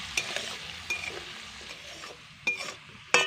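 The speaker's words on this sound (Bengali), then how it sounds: "দুটো বড় সাইজের আলু এইভাবে ছোট ছোট টুকরো টুকরো করে ভেজে নিচ্ছি" Small pieces of potato sizzle in hot oil, a soft steady crackle broken by a few sharp clinks of a spatula against the pan.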